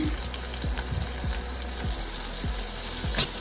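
Chopped tomato sizzles steadily in a pan for Maggi masala noodles. A continuous loud frying hiss is broken by periodic scrapes and stirs, with no talking.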